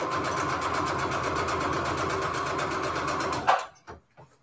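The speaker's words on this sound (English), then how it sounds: "I'm going to do straight stitch here" A sewing machine runs a straight stitch through paper envelopes with a fast, even mechanical whirr, then stops abruptly, followed by a couple of small clicks and handling sounds.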